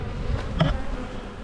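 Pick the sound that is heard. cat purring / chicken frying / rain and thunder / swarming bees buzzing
swarming bees buzzing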